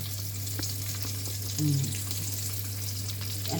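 Pork belly fries in a pan with a close, steady sizzle and a constant low hum in the background, plus a brief clink partway through; no one speaks.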